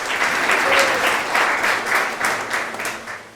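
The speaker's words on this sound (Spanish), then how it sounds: "Denles un aplauso aquí al escandalizado y al escandalizador." A lively audience breaks into loud, sustained applause for two people called up during a talk, the clapping dense and close, swelling in waves with a faint murmur of the crowd underneath.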